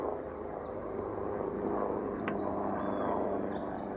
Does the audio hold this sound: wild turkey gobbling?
no